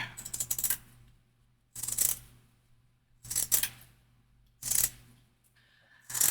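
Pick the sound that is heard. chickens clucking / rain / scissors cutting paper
scissors cutting paper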